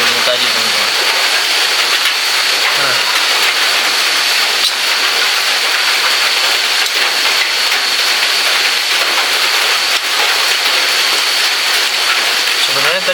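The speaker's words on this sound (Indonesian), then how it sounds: "Semoga hujannya gini-gini aja." Rain falls steadily around a solo campsite at Bah Damanik, an even, loud hiss of drops pattering on surfaces that continues without pause, with a few faint low sounds at the edges.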